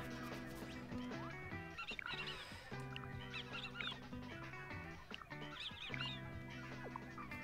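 A bird in Super Mario Odyssey gives repeated honking, goose-like calls in short bursts, mixed with tonal game sounds throughout.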